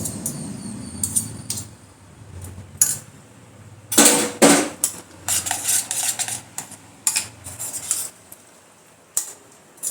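A spoon clinks and scrapes against a bowl while mixing tomato sauce, giving irregular metallic taps and a cluster of sharper knocks midway, close and fairly quiet, with no talking.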